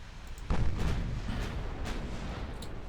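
Torpedo strikes on the aft section of an enemy warship in the naval game Ultimate Admiral Dreadnoughts: a sudden heavy explosive thud followed by a sustained low rumbling roar and scattered crackling bursts.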